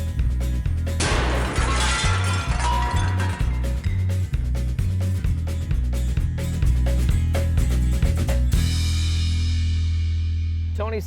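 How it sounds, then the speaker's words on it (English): Panes of window glass smashed and shattering in a workshop demonstration, with repeated crashes and clinking shards over a steady low hum, loud and close, followed by falling debris. "let's break some glass."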